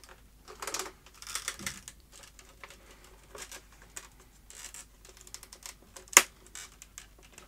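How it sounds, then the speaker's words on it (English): The plastic front bezel of an LG W2261V monitor being pried off by hand, a run of small scratchy clicks and plastic rattles in uneven bursts, with one sharp crack near the end and no talking. "carry on removing this front bezel"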